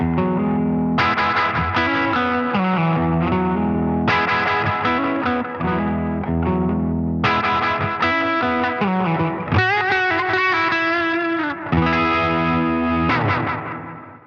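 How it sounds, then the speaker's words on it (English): Electric guitar plays chords and melodic lines through a NUX Atlantic delay and reverb pedal set to parallel mode, with repeating echoes and a lush wash of reverb trailing every phrase, loud and alone. "there is the NUX Atlantic delay and reverb"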